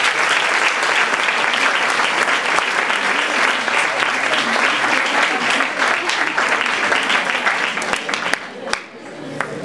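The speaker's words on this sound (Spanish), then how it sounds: "yo quiero darle un fuerte aplauso" A roomful of people gives sustained, dense applause to welcome a speaker at a lecture, loud and continuous for several seconds before thinning out at the end.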